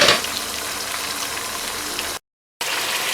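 Mutton sizzling in ghee in a karahi for namkeen gosht, a dense, steady frying hiss that drops out briefly near the end before resuming.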